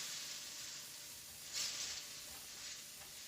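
Stir fry in a pan sizzling steadily as it cooks down, a soft continuous hiss with a brief louder crackle midway, alone without talk.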